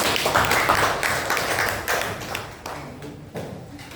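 A school class claps hands together in a classroom, a loud, quick patter of overlapping claps that gradually thins out and fades.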